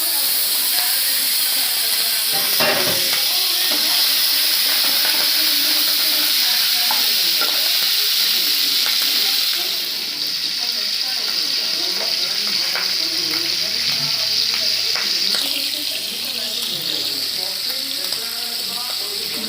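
Food fries in a pan with a loud continuous sizzle and hiss, punctuated by occasional stirring scrapes and clatters, close and steady for the whole stretch.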